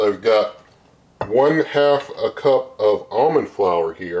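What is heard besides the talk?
No distinct noise like a dog, phone or traffic.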